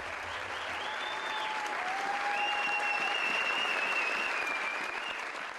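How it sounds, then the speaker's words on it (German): A theatre audience at the premiere of A Midsummer Night's Dream at the 35th Burgfestspiele applauds warmly, with steady massed clapping throughout and a few high, sustained whistle-like tones gliding over the top. "den das Publikum mit viel Applaus würdigte"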